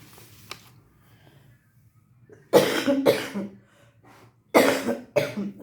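A person coughs in two loud, harsh bursts of several hacks each, close by, after a quiet stretch with faint background noise, during a lecture-style talk.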